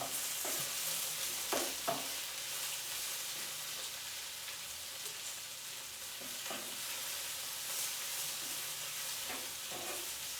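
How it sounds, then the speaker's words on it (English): Spinach wilts with garlic in a frying pan, a gentle, steady sizzle running throughout with a few soft stirring scrapes and taps near the beginning and end. "it always seems like spinach, you put in so much into the fry pan, and then it ends up wilting"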